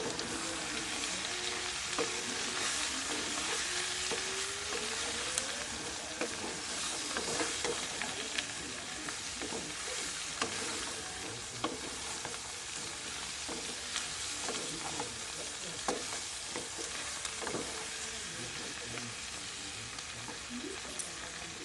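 Potato and cauliflower curry with turmeric being stirred in a pan, a steady sizzle with scattered scraping and clinking of the spoon throughout, moderately quiet and continuous with no talking.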